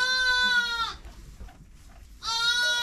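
Two loud, close bleats from a sheep in a Maramureș flock, each a drawn-out wavering cry separated by a brief quiet pause.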